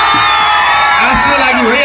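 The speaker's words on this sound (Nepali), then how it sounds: "हामी सबैलाई एकचोटि जोरदार ताली" Crowd at a live rock concert cheering loudly, with whoops, yells and voices packed close together in a dense, sustained roar.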